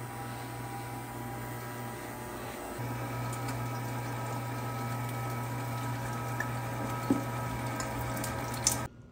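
A meat grinder runs with a steady motorised hum while grinding wild boar sausage meat, a constant drone with faint clicks and a brief clunk near the end as it stops.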